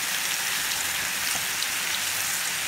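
A fish mixture with oil sizzles steadily and closely in a pan as it is stirred while cooking for a Moroccan fish pastilla. The hiss is constant, with no talk over it.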